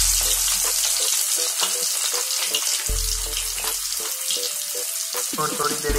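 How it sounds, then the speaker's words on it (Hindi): Pieces of seer fish fry in a pan over an open flame, giving a loud, steady sizzle and crackle of hot oil close by that fills the whole stretch, with faint clinks from the pan. "और थोड़ी देर से इसको फ्राई होने देना है एक साइड के लिए।"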